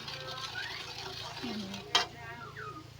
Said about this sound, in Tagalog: Tapos malakas na natin yung sugar. Halo-haloin lang hanggang makuha.